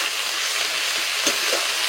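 Onion frying in a pan with ginger paste and garlic paste, a steady broadband sizzle with a few soft stirring clicks, close and continuous with no talking.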